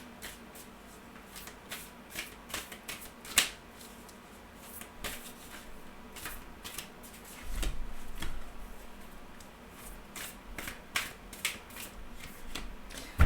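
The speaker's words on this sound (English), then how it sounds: "Let's pull an oracle card." Oracle cards are shuffled by hand in a steady run of soft riffling and snapping strokes, close and fairly quiet, with a few sharper slaps as cards are pulled; no one speaks.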